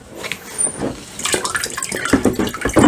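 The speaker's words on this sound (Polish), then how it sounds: "Wszystko jest w odkurzaczu, prędkość tego wciągania była błyskawiczna." An Evolution R15VAC corded suitcase wet vacuum with a power-tool socket slurps up water in gurgling, splashing bursts that build toward the end, loud and close with no talking.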